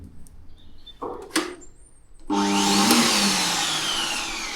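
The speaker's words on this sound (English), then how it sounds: "An air dryer." A couple of clicks and a brief knock, then a loud hot-and-cold dog air dryer at a motorhome stop's dog shower switches on and roars steadily with a whining, airy rush.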